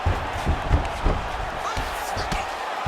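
A fight crowd at a UFC-style event roars as the fighters get back to their feet. The noise is a broad, continuous roar with a few louder bursts, and a commentator talks over it.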